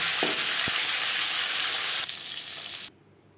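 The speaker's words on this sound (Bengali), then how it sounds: "পরের মাছ মাথা একইভাবে ভেজে নেব" Rui fish head frying in hot oil in a pan gives a steady, loud sizzle with a couple of brief utensil knocks, then the hiss drops sharply near the end.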